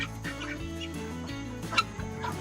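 Ducks and guinea fowl on a homestead call at bedtime, a faint mix of overlapping quacks and chattering squawks that rise and fall in short bursts.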